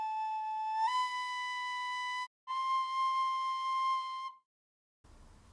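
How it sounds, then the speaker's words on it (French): Recorder (flûte à bec) notes played in a classroom physics demonstration, two sustained clear whistling tones at different pitches separated by a short gap, ending with a brief noisy rustle. "Avec un instrument de musique, une flûte à bec par exemple, on observe les signaux résultant de sons de hauteurs différentes."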